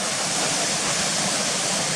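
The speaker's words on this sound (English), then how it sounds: "point the camera down over the waterfalls" Waterfalls tumbling down the rocky ravine of Swinner Gill make a steady, dense roar of rushing water, close and loud, with no voices over it.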